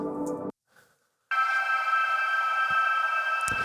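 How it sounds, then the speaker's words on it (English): A sustained, bright synthetic string pad, slowed down, reverbed and sped back up, with a washy reverb tail, swells in after a short tone and a gap, holding steady and smooth. "a really long string file that I slowed way down, put it through reverb, and then sped it back up again"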